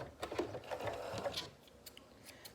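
A sewing machine runs in short, close bursts of rapid mechanical clatter as it stitches fabric for a one-piece garment pattern, with the whirring fading to lighter ticks toward the end.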